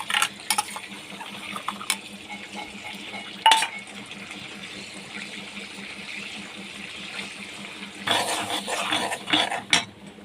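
Onion paste drops into hot mustard oil in a pan for a spicy fish curry, giving a steady low sizzle with a few sharp clinks of a utensil, then a louder, rougher burst of frying near the end.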